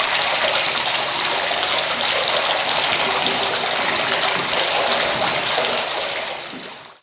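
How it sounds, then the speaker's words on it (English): Hot water gushes into a vat of cheese curds at an artisan cheese plant, a loud, steady rushing pour that continues unbroken before tapering off at the end. "some whey is removed and hot water is added"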